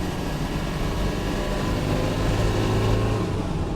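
A 1989 Land Rover Defender 110 with a 200Tdi diesel engine pulls hard in third gear, a steady loud low drone rising slightly as it accelerates under load.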